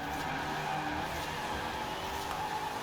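Car tyres skid and squeal continuously in Forza Horizon 4, a steady, loud screech over engine noise with no pauses.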